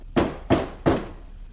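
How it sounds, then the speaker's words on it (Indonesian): Three firm knocks on a wooden door, evenly spaced and close by, each a short hollow thud with nothing else heard. "terdengar suara ketukan pintu"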